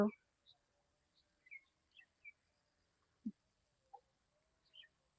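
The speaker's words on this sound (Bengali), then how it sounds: "শুনতে পাচ্ছেন কি পাখির ডাক?" Faint, scattered bird calls and short chirps sound outdoors at dusk beneath a cloudy evening sky, in open countryside with rivers, canals and fields. The calls come sparsely and from a distance, with a brief low thump partway through.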